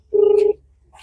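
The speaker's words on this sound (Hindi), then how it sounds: "फिलहाल में घंटी जा रही है" A single phone ringback tone on a call in India, one steady buzzing ring of about half a second followed by silence, heard alone.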